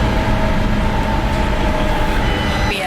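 Copenhagen metro train rumbling along steadily, loud and close, with rolling wheel noise and a faint rising whine near the end, no speech.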